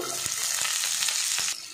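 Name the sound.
onion, green chili and garlic frying in oil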